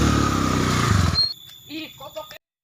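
Loud broadband motorcycle engine roar filling the first second or so, cutting off abruptly, followed by a few short spoken syllables.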